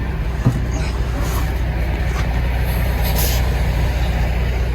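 A truck reversing under a trailer during a manure-hauling job: a steady, loud diesel drone fills the scene, with a brief knock near the start and faint hisses and clanks riding on top.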